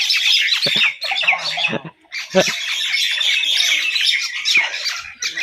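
Pair of myna birds squabbling on a rainy day, loud harsh squawks and chattering calls in rapid overlapping bursts with brief pauses, close by.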